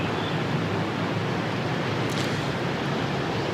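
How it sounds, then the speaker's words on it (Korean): Steady ocean waves washing on a shore, a broad continuous rushing surf with wind, even and unbroken throughout. "지금 이 바다 소리가 혹시 들리세요?"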